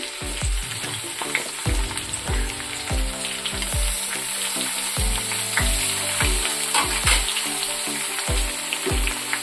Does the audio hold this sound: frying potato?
yes